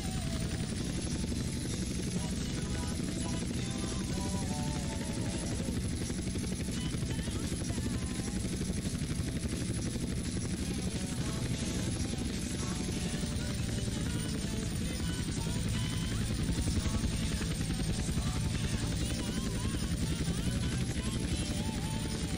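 A helicopter in the video game GTA San Andreas drones with a steady, loud rotor buzz and engine whine throughout, continuous and close with no pauses.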